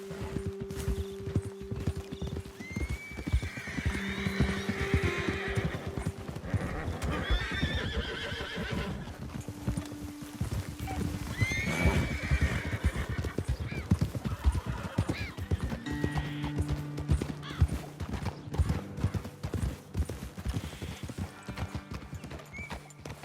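Horse hooves clip-clop in a rapid steady rhythm while horses whinny and snort now and then in Red Dead Redemption 2, with a faint voice briefly underneath.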